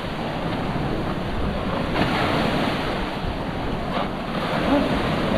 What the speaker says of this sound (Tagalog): malakas ang alon. Kita nyo alon.